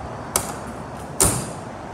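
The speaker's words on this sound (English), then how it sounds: "you can drop that down and you can close this door" The rear entrance door of a 2020 Wayfarer travel trailer is closed, giving a light creak followed by a sharper latching thud, close and alone.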